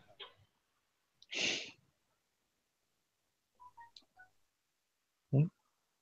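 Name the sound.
phone keypad tones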